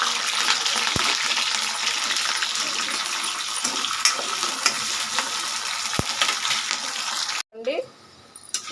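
Tempering spices and green chillies fry in hot oil for a ridge gourd peel chutney, a loud, steady close sizzle with stirring scrapes that cuts off abruptly near the end.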